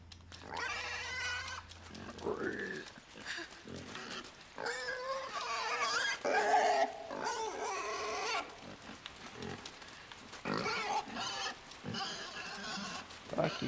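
A pig grunts and squeals in the video game Inside, in repeated bursts at moderate volume. The game's ambient audio runs underneath, with no speech.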